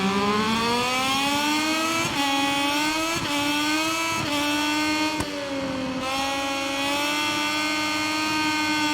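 Racing motorcycle engines from the MotoGP 22 game scream at high revs, rising in pitch through each gear, then cutting sharply on several upshifts and dropping under braking, loud and close throughout.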